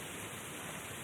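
Steady rain falls in a dense, even hiss with no breaks, fairly quiet and continuous throughout the short stretch, with no voices over it.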